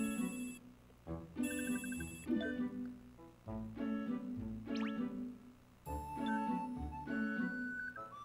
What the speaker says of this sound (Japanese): あ、電話が。